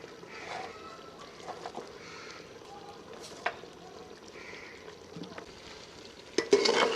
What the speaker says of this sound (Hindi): तकरीबन 10 मिनट के लिए इसे भून लेंगे ऑयल में, आग को तेज़ करके